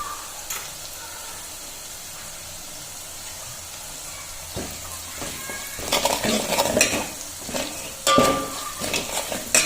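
Garlic frying in a pan with turmeric and salt: a steady sizzle, then louder scraping and stirring clatter from a utensil against the pan, close and busy toward the end.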